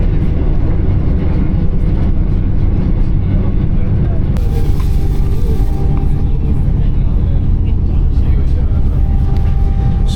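Passenger train rolling along a line in Tunisia, a loud constant low rumble and rattle of the carriage throughout, with a sudden shift in the noise partway through.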